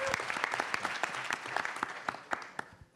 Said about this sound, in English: So please join us one more time in giving them a huge round of applause.